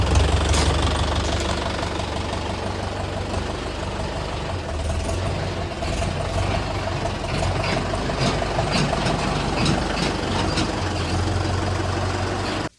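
A tractor engine runs steadily and loudly up close for the whole stretch, a rough knocking diesel chug at a site where gravel fill is being dumped alongside JCB excavator work; no voices.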